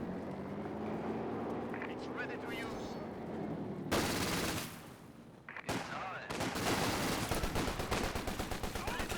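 Automatic gunfire crackles in bursts during a competitive video game match, with a machine gun slightly out of position, sharp dense volleys filling the latter half under loud play-by-play commentary.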